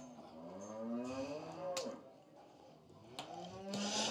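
Cattle lowing at a livestock auction, Brangus cows with some having calved, several long rising and falling moos close by with a brief sharp clatter between them and no talk over them.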